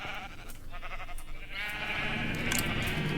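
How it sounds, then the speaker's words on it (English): Several Minecraft sheep bleat in a row over steady game background, layered and fairly close, with no voices. "That's why we got multiple floors of just colored sheep."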